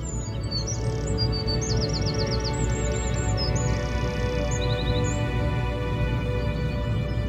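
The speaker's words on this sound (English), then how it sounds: "Songs of countless birds filled the air with lovely melodies." Several birds chirp and trill in quick bursts over a constant low background hum.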